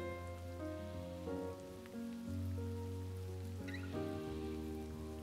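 Rain falling on a street makes a gentle, even patter beneath a continuous soft musical backing, with no voices.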